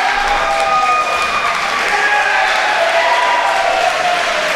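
A wrestling crowd at a Smash Wrestling match between Chris Hero and Takaaki Watanabe cheers and applauds loudly, a dense roar of voices and clapping with whistles and shouts rising through it.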